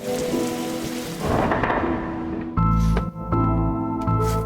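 Heavy rain pours in the Darkside Detective video game, broken by deep rolling thunder, with faint sustained musical tones beneath the downpour.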